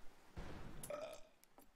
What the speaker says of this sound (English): Okay, my guy burped.